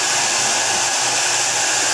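A hair blower dryer running on its cold setting during a hair rebond treatment, a loud steady airy roar held at a constant level throughout, close to the listener with no talk.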